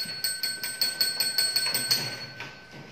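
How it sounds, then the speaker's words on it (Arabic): A bell rings in a preschool classroom, a rapid string of bright metallic strikes over about two seconds, fairly loud over the room's background murmur. "دق الجرس هدوء الان"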